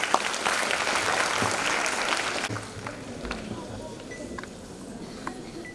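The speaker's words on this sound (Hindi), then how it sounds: "एक जब जोरदार ताली।" Audience applause at a 30th anniversary celebration event held on National Girl Child Day, loud and sustained for about two and a half seconds before thinning into scattered claps and room murmur.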